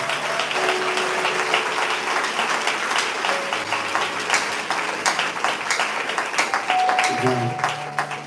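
A church congregation applauds in a sustained, dense wash of clapping with voices and sung tones mixed in throughout.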